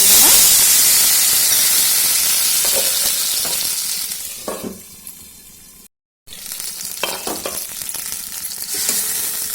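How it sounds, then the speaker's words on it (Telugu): Tomato pieces sizzle and fry in about two teaspoons of hot oil in a kadai, a steady broadband hiss that eases midway, cuts out briefly, then resumes with light stirring crackle. "అదే బాండీలో అయితే ఒక రెండు టీ స్పూన్ల ఆయిల్ వేసుకొని ఫస్ట్ అయితే టొమాటో అయితే వేసేసుకుంటాను"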